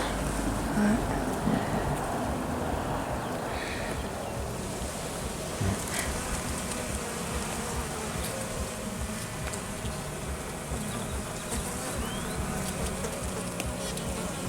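Honeybees hum and buzz steadily around an opened brood frame during a hive inspection of colonies hit by Asian hornet attacks, a continuous dense drone with light wind noise across the microphone.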